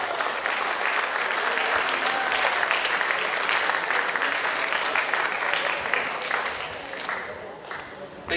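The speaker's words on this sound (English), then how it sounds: "So let's give her a great round of applause." A school audience at a Year 8 prizegiving ceremony gives a long, dense round of applause, steady and loud before easing off near the end, with no voices over it.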